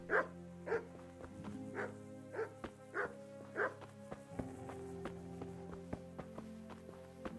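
Dogs bark in Kingdom Come: Deliverance, a series of loud, evenly spaced barks over the first four seconds, then fading into clip-clopping hooves and ambient game sounds.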